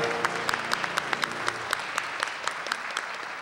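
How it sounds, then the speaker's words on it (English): Audience applauding at a regional spelling bee, steady moderate clapping from a hall crowd with a few distinct nearer claps standing out, continuing for the whole stretch. "Big round of applause for round five."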